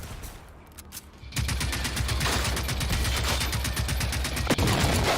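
Rapid rifle fire from the video game Generation Zero, a loud, steady stream of regularly spaced shots after a brief quieter lead-in, continuing without pause to the end.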